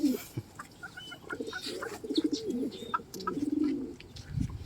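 Pigeons coo in low, rolling throaty phrases through a steady murmur of birds, with occasional higher chirps and clucks nearby and no talk.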